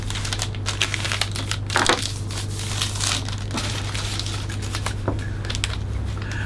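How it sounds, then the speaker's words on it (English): Clear cellophane and craft paper crinkle and rustle continuously while an orchid gift is being wrapped, close and fairly loud, with irregular crackling bursts over a steady low hum. "we need to slide this clear cellophane inside, and then we fold"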